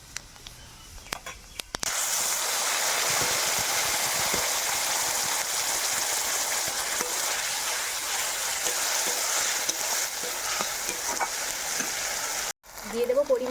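Whole cumin seeds and ground spice paste hit hot oil in a pan for a masala fish curry, setting off a loud, steady sizzle that starts abruptly and holds strong for over ten seconds before cutting off.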